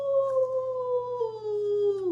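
A person imitates a wolf, holding one clear, steady howl close to the microphone that slowly slides lower in pitch over about two seconds and stands alone with no other sound.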